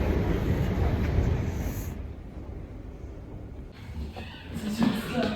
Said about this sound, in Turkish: İşte metroya bineceğim.